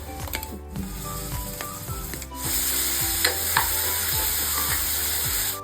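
Garlic, cumin, coriander and green chili paste frying in a pan, a steady sizzle with repeated scraping strokes of a spoon stirring, growing louder partway through.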